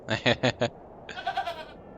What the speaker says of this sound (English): Oh, the goats.